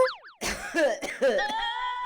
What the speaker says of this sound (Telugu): అదిగో దగ్గుతున్నట్లున్నాడు, వెళ్ళి చూడు.